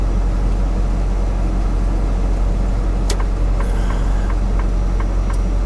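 A car on a road in Brea, California, heard as steady, loud broadband traffic rumble throughout, with a few faint clicks and ticks near the end.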